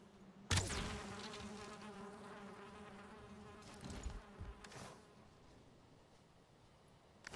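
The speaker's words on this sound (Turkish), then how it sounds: "Ama kraliçe arı geldi" Queen bee buzzing in the Valheim video game, a steady insect drone with a sharp impact near the start and brief louder swells, fairly quiet overall.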